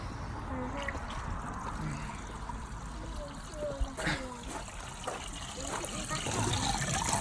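Water gushes and trickles through a homemade upward-flow pond gravel filter being flushed out, a continuous splashing pour with bubbly surges, and a person talks at times over it.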